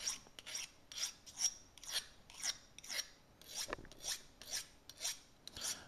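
A knife is drawn repeatedly through a homemade hollow sharpener, making about a dozen short, crisp rasping strokes in a steady rhythm, faint and close with no talking.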